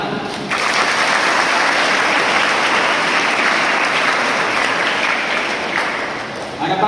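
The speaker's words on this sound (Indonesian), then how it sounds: "Tepuk tangan." An audience at a vocational school guest-teacher session with Suzuki claps in sustained applause, loud and dense for several seconds before it tapers off.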